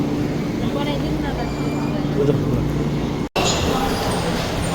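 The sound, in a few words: train about to depart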